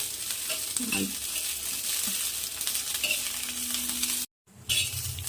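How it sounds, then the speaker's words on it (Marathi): Steady crackling sizzle of green chilies roasting in oil on a griddle, with occasional light scrapes and taps, briefly cutting out near the end. "यामध्ये मिरची ॲड करायचं आहे आणि डाग पडेपर्यंत मिरचीला भाजून घ्यायचं आहे"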